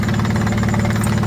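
An outboard engine of around 150 or 200 horsepower runs on a speedboat on a river and beach trip near Kumai, a loud, close, steady throbbing drone with a fast rhythmic pulse and no talking.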